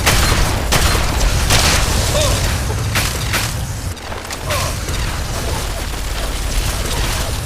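Repeated gunshots in the Fallout 3 game crack out at irregular intervals over a loud, steady rumble of combat noise, a dip in the middle before the firing resumes, with brief voices in between.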